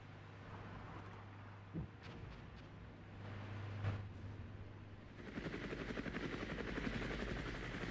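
Helicopter gunships in the tank strategy game Armoured Brigade rumble with a low rotor drone, faint and distant, joined by a few soft thuds and a rising, louder rotor wash toward the end.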